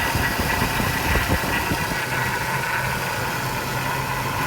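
The engine of a 2004 Cadillac Escalade runs steadily on a test stand, a loud, constant idle with a rough, knocking low rumble and no talking.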